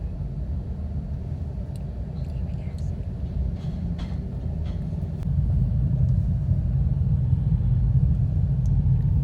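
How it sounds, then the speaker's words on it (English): Road traffic in Bangkok at night makes a continuous low rumble that swells noticeably about halfway through, with faint murmuring voices. "Traffic, the traffic, the traffic."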